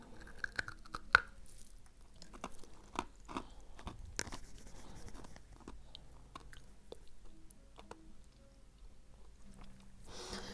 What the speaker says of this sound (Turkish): Şekerim var. Biraz ucundan ısıracağım.